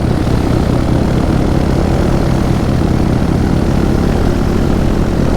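A paramotor's small propeller engine drones steadily at idle in flight, a loud constant buzzing hum with no voices.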